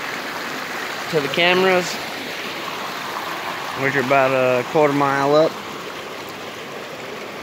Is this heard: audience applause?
no